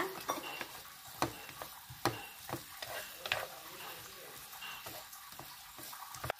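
A cassava sweet is stirred in a pan while its syrup thickens; a spoon scrapes and knocks in irregular taps over soft bubbling, quiet and close.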